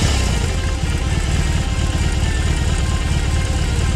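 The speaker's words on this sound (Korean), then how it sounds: "뻥 하고 터지면서 시동이 걸릴 때 박서 엔진 특유의 꿈틀대는 움직임이 느껴지는데" A BMW R 18 cruiser's boxer engine starts and idles with a steady, lumpy low throb, loud and close, running continuously without a break.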